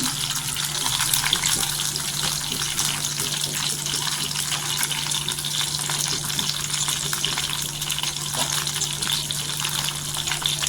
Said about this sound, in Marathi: छान अशी तेलावर फ्राय झालेली आहेत वांगी